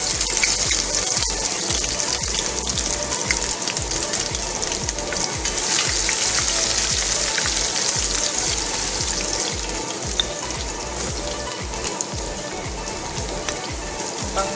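Ginger sizzles in a hot pan for arroz caldo, a dense, continuous hissing crackle that stays loud and even throughout.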